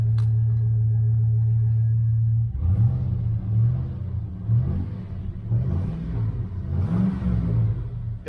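A 1972 Chevrolet Nova with 148,000 miles and mufflers idles with a steady low drone, then settles into a lumpy, throbbing rumble with rhythmic pulses and slight revs, heard close and alone.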